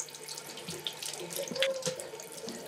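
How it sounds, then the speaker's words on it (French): Tap water runs steadily into a bathroom sink as sisters wash up in a Moroccan home, a continuous close splashing stream with small bursts of spatter and no talking. "les sœurs se rendent dans la salle de bain pour se laver"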